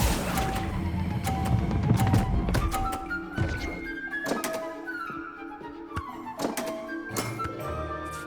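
A Hogwarts Legacy Accio summoning spell pulls an object with a quick run of magical whooshes and sharp thunks and cracks. Bright chiming tones follow, and the clip ends with a final impact.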